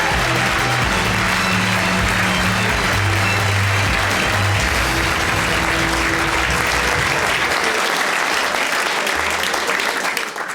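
A loud, sustained ovation at the Channel 4 Political Awards greets Vince Cable as Opposition Spokesman of the Year, thick continuous applause from a large audience with music playing underneath for most of its length.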